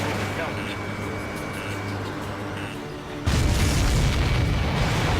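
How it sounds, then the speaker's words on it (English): A deep boom bursts in partway through, followed by a loud, sustained rumble that fills the rest of the moment, with a low engine-like hum before it, from the jet combat video game Ace Combat 7: Skies Unknown. "Did you see that explosion?"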